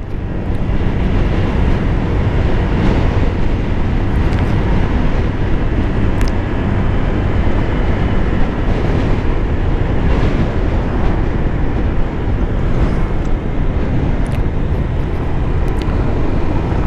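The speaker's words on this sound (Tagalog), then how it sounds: "Nakakatakot talaga yung hangin." Strong typhoon-like wind roars steadily and loudly for the whole stretch, a dense continuous rumble and buffeting with no talk, heard during a drive from Olongapo to Mariveles, Bataan.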